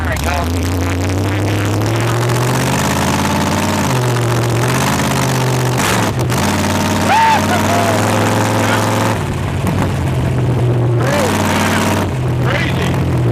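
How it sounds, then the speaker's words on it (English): A 1915 Ford T-bucket hot rod with a 750 horsepower 400 small-block V8 rumbles steadily at a low, throaty idle with slight revs, loud and close throughout while people talk over it. "Nasty 750 horsepower small block in it."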